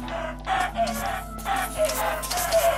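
Chickens clucking and crowing in the Minecraft video game, a steady loud run of repeated game fowl sounds with no talk.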